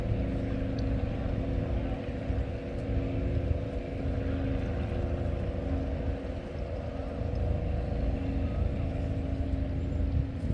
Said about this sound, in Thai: เรือขบวนนี้วิ่งมาจากทะเลนะคะท่านผู้ชม